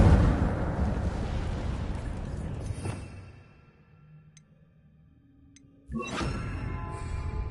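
Incendio fire spell cast in the Hogwarts Legacy video game, a loud roaring burst of flame that fades to quiet before a second sharp whoosh flares up.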